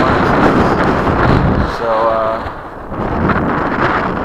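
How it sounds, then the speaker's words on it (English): Gusty wind buffets the microphone at an RC model airfield on a windy day, a steady loud low roar that dips briefly midway, with someone talking over it. "It's better than it was, but it is still windy."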